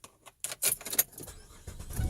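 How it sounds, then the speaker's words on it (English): Keys jangle and rattle close by as a Chevrolet Impala is started, with short metallic clinks followed by the car's engine beginning to turn over. "So let me crank this up real quick."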